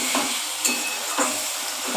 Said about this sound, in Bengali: দেখো আলু আর ডিমগুলো সব দিয়ে মশলার সঙ্গে কষাচ্ছি।